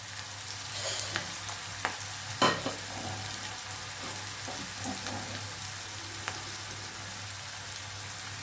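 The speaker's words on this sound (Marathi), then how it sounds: "हे छान परतून घ्यायचे आपल्याला" Chopped onion and tomato sauté in a pan for a bitter gourd dish, giving a continuous hissing sizzle with a few scattered stirring knocks, close by and with no talking.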